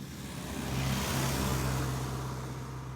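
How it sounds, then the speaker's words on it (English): A car approaches from behind on the road and passes, its engine and tyre noise swelling to a peak midway and then easing off, steady and fairly close. "there's a car coming from behind"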